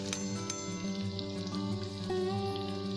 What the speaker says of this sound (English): Add garlic paste, cumin seeds, mustard seeds